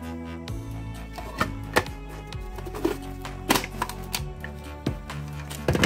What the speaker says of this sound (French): je vais hacher l'oignon et l'ail